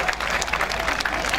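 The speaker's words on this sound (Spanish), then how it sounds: "un aplauso para este público maravilloso, por favor, y para esta instancia romántica" Audience applause at a Valentine's Day show: a dense, steady wash of clapping from a crowd, sustained and fairly loud throughout the short burst.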